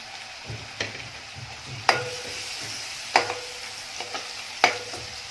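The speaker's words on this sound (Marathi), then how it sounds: "कांदा आहे तो छान कुरकुरीत होईपर्यंत परतून घ्यायचा आहे आता फोडणीमध्येच अर्धा चमचा हळद घालून घेणार आहे" Sliced onion sizzles in hot oil with turmeric in a tempering for a black-eyed pea curry. A steady frying hiss runs underneath, broken by several sharp scrapes and clacks as a spoon stirs the pan.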